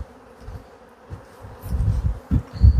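Honey bees buzz around an open hive during an autumn inspection, with signs of robbing; a low, steady insect drone swells and grows louder toward the end, with no talking.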